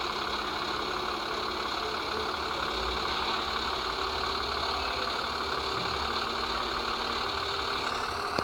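A truck engine idles steadily in a driving video game, a constant low rumble with a fine mechanical rattle that stays even and fairly quiet throughout.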